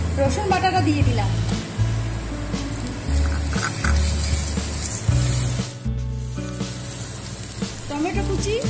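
Garlic paste hits browned onions in a hot pan for a chicken curry, sizzling and spitting loudly with bursts of frying noise as it is stirred, while someone talks over the cooking.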